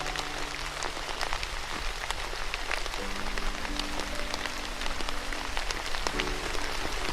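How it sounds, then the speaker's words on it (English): Steady rain patters densely on a surface, close and constant, with individual drops ticking through a soft continuous hiss and a low tonal hum underneath. "It's raining!"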